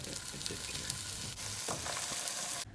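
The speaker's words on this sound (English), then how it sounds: "Here's some more sizzling ASMR for you." Food sizzles and crackles in a hot pan, a constant hiss with a few stirring scrapes, close up, cutting off abruptly at the end.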